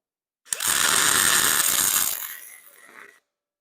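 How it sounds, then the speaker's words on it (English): An Arccaptain MIG 200 with an LBT-150 aluminum spool gun lays a weld bead on aluminum with a loud, steady buzzing crackle. It starts abruptly, runs for about two seconds, then trails off into quieter sputtering before stopping. "This is my first pass ever with an aluminum spool gun."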